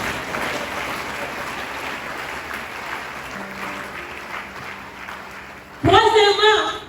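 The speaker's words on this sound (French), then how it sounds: "Nous applaudissons pour Jésus." Church congregation applauding for Jesus, a sustained wash of clapping with a tone held underneath, then loud singing voices break in near the end.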